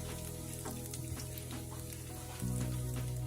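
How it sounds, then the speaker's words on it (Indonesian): Candlenuts sautéing in a pan while cooking beef rendang, a steady close sizzle with light crackles that swells louder near the end. "sekarang saya mulai satu persatu tumis ya. Pertama ini tadi kan kemiri ya"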